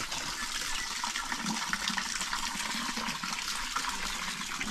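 Spring water piped down from a stream high in the hills to a village supply gushes steadily nearby, a broad continuous rush and splash with no break.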